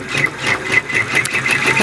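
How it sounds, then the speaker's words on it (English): A PR 655 embroidery machine sewing out a design, its needle running in a steady rapid mechanical rhythm, close and continuous with no talk. "Now I'm going to hit the lock button and start, and it's going to sew this out."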